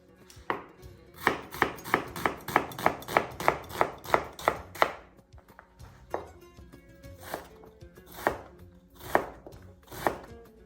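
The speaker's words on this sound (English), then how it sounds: "I am chopping the onion into the small pieces today" Knife chopping an onion into small pieces on a cutting board for a Moroccan-style lamb tagine, a fast run of about a dozen even, crisp taps followed by slower, spaced chops, close and clear.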